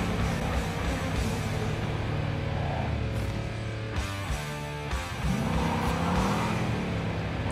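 A newly bought car's engine in Cyberpunk 2077 hums and revs, its pitch rising and dipping as it accelerates and shifts, with a brief tire squeal, loud and close throughout.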